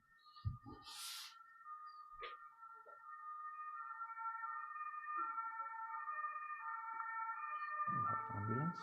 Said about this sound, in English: We have ambulance.